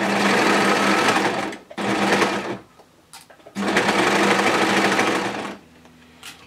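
A sewing machine stitches a pocket onto a child's hoodie in two long loud steady runs, with a brief pause between them and a short quiet stretch at the end.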